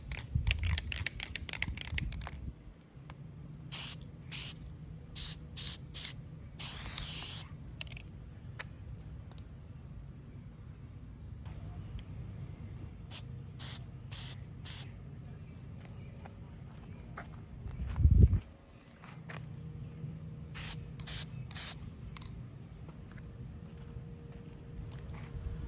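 Spray paint can hissing in repeated short bursts as a second coat goes onto car badges held 6 to 10 inches away, the sprays coming in clusters over a steady low background hum.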